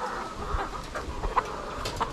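Layer hens cluck softly on a Philippine poultry farm, scattered short calls rising now and then over steady low barn noise, fairly distant and quiet.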